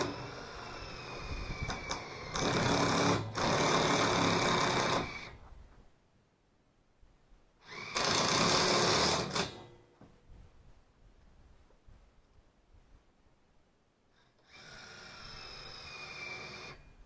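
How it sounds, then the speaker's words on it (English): A power driver sends self-tapping screws into galvanized stainless steel strapping on a high tunnel greenhouse hoop, in three separate bursts of whirring with quiet pauses between them. "Just cut a couple pieces and screw them on with"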